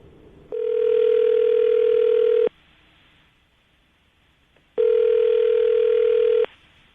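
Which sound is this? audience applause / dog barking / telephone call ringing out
telephone call ringing out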